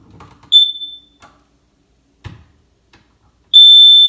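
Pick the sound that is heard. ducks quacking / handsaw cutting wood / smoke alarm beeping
smoke alarm beeping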